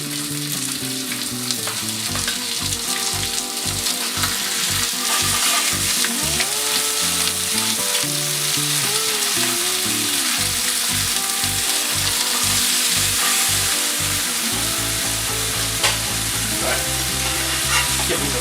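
Swedish korv pork sausage fries in a little oil in a pan, a steady loud sizzle running throughout with a faint rhythmic pulsing underneath.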